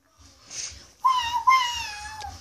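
A voice imitates a cat with a drawn-out meow, close and clear, after a soft breathy sound.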